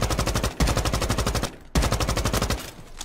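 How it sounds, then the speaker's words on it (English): Rapid bursts of automatic gunfire in a video game shooter: two long, loud, sustained volleys separated by a brief pause, up close with no talking. "I'm shooting anything on sight."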